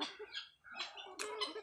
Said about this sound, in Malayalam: നമ്മുടെ ഒരു ടർക്കിയാണ്, ടർക്കിയുടെ പെടയാണ്.